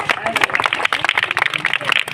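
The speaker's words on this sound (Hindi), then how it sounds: "तो तालियों के साथ स्वागत कीजिए तान्या का" An audience at a school foundation day event applauds on stage, dense steady clapping that fills the short clip, with a voice talking over it.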